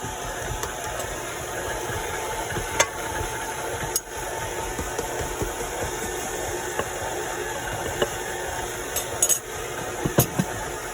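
Stand mixer kneading cinnamon roll dough, a constant motor drone with occasional clinks of metal against the bowl, steady and moderately loud, no voices.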